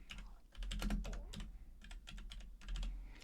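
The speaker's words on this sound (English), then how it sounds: "if you just type in live trading here" Typing on a computer keyboard: rapid, irregular clusters of light key clicks in quick runs with brief pauses, close and fairly faint, with no voices.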